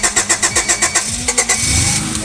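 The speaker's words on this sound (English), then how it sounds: "Put your safety system back in and let's hear this thing crank." The starter of a Honda Accord CB7 cranks in a quick, even rhythmic whir for about a second and a half, then the engine catches and settles into a running note, loud and close, with no talk over it.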